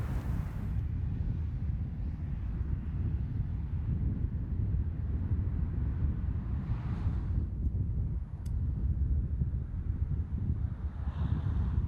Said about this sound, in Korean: 아직까지는 좀 바람 때문에 낚시하기가 좀 만만치 않네요